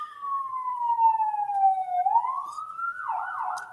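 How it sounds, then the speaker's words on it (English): An ambulance siren passes outside, a loud wailing tone that sweeps down and then rises again, sounding clear and alone with no talk over it. "Oh, we got a ambulance or something coming."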